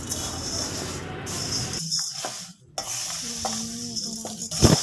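Pre-fried rice, lentils and dry fruits are stirred together in a bowl while preparing homemade baby food, giving close rustling, scraping stir strokes with a light hiss, no talking.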